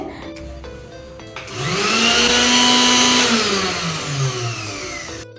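A kitchen mixer grinder, switched on by accident while being wiped, whirs up loudly with a rising motor whine, holds a steady roar, then winds down over a few seconds.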